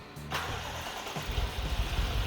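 A BMW X6 V8 cranks and catches with all eight fuel injectors disabled: a short starter whir, then the engine fires into a loud, rumbling, uneven idle close by.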